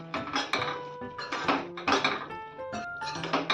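A metal spoon clinks and scrapes against a pan while a soya chunk chilli mixture with cornflour is stirred, giving repeated close, ringing knocks in an uneven rhythm.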